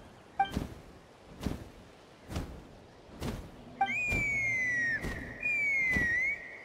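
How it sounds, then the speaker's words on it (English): A whistle in the video game Genshin Impact rings out as a clear, high sliding tone, heard in two sustained pulls that drift downward, over a steady series of soft, rhythmic thumps. "That sounded like a whistle."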